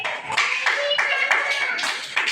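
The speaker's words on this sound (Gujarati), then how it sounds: "તાળી પાડો જી" A short burst of clapping from a group of children in a classroom, a few uneven rounds of claps close by with some voices mixed in.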